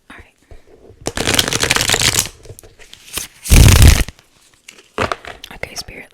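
Tarot cards are shuffled up close in a quiet ASMR setting, with crisp riffling bursts separated by short pauses and a loud flurry near the middle.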